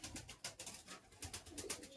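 Giribaz pigeons in a loft give soft, faint coos in a quick repeating rhythm, close by and alone without talk.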